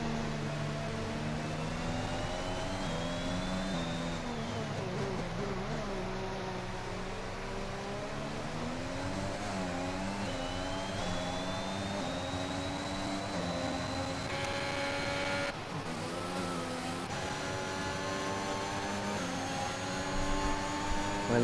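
Several racing car engines from a sim racing league game drone steadily, with pitch sweeping up and down as cars brake and accelerate through corners; a continuous, fairly even roar with no talk.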